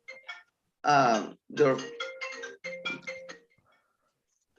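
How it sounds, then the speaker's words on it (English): A phone ringtone sounds as steady electronic tones running under people talking in a discussion session, close and moderately loud for a couple of seconds. "a phone ringing here"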